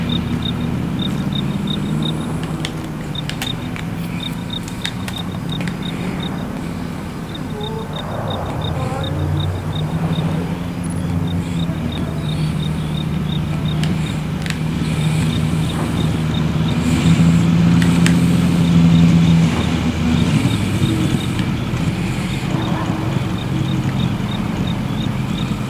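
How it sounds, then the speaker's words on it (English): A giant truck in Call of Duty Modern Warfare (2019) rolls along with a steady, heavy low engine rumble that swells slightly toward the end, set in busy game ambience with faint scattered clicks and tones. "It's a giant truck."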